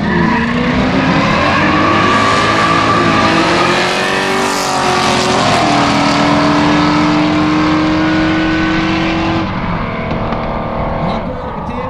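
A Dodge Dakota with a 408 V8 and a Ford Mustang with a 302 V8 launch side by side at a street drag race in Iceland, their engines roaring and revving loudly with tire squeal, while an announcer talks over them.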